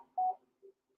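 A phone briefly sounds during a podcast recording: a short loud steady tone followed by a fainter blip, then near silence.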